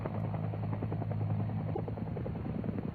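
A military UH-1 helicopter on a remote resupply mission, its rotor chop and turbine whine loud and steady throughout, with dense rhythmic blade pulses.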